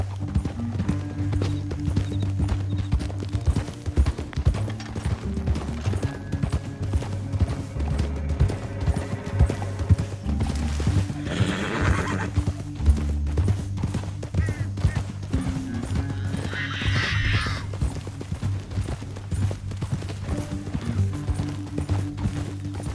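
Horse hooves clip-clop at a steady, driving pace in Red Dead Redemption 2, with a brief whinny, mixed under a loud, continuous low game soundtrack.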